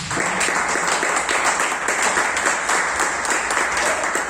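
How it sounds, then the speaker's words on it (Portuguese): Church congregation applauding together, a dense, steady wash of many hands clapping close by, sustained for several seconds without speech over it. "Vamos aplaudir Jesus."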